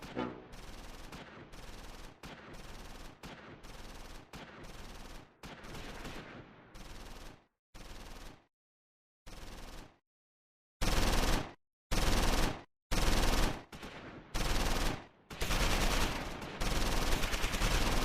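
Sustained machine gun fire in the WWII game Close Combat 4, a Browning .30 caliber position under suppressing fire in the Battle of the Bulge at the Siegfried Line: long rattling bursts separated by short silences, closer and louder toward the end.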